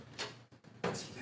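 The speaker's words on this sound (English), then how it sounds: "Now, we can open this" A drawer on a new metal tool storage unit slides open, a brief scrape and clunk followed by a short pause and a louder rolling rush near the end, close and unaccompanied by speech.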